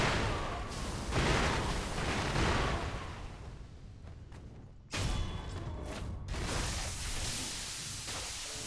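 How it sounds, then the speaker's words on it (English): Firecracker prosthetic tool in the Sekiro video game, set off in a rapid run of crackling pops and bursts. The blasts are dense and loud, with a short dip before a second sharp barrage. "we're going to firecracker her like 6 times"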